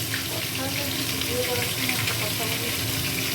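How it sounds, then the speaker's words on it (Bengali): Boiled potatoes go into a loudly sizzling Bengali egg curry, a dense, continuous frying hiss that stays close and strong throughout. "সেদ্ধ করা আলু দিচ্ছি ডিমের ঝোলের সঙ্গে"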